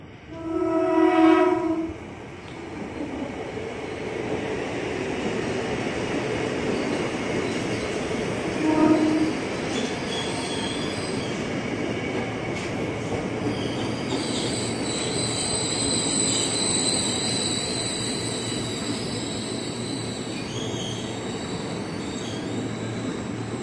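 A commuter train of 8 cars pulls into Depok station with a brief horn blast, then long high-pitched wheel squeals over the loud rolling rumble of the cars.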